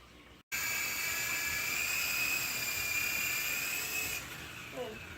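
A small battery-powered toy RC helicopter whirs up into a steady high-pitched buzzing whine, close and continuous, then its motor pitch drops near the end.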